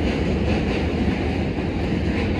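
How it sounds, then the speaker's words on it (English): A loud train rumbles past in New York near Brooklyn Bridge Park in Dumbo, a dense, steady roar that fills the whole stretch at close range with no pause. "This train is so loud."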